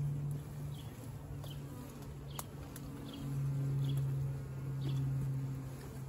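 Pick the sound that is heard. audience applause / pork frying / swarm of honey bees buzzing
swarm of honey bees buzzing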